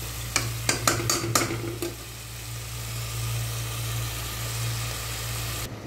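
Chicken and spices are stirred and fried in a pan: a run of sharp spoon scrapes and clinks in the first two seconds, then a steady low sizzle over a constant hum, no talk.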